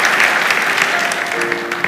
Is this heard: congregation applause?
yes